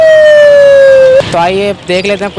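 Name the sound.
police car siren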